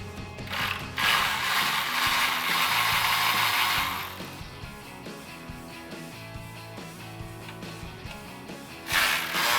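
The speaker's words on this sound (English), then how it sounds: "Still using that 8mm socket. Go ahead and get them undone as well." A ratchet with an 8mm socket loosens fog light bracket bolts on a 2007-2014 Ford F150, giving fast clicking ratcheting bursts, dense at first, then sparser turning, and a final quick burst, close and loud.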